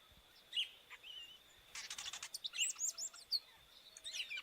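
An epaulet oriole (Icterus cayanensis) sings in its natural habitat, a faint series of sharp chirps and whistled notes in irregular bursts over quiet background hiss, with no voices.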